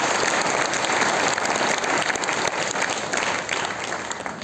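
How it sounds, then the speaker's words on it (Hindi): Loud applause from a large audience at a business motivational event, a thick, sustained clapping roar that stays strong and eases only slightly near the end. "उनके लिए जोरदार ताली चाहते हैं"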